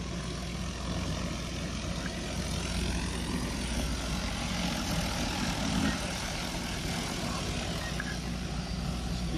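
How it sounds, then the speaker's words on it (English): An agricultural spray drone flies over a farm field lined with trees, its rotors giving a continuous, fairly faint buzzing drone with no voices over it. "So that drone moves approximately 30 feet."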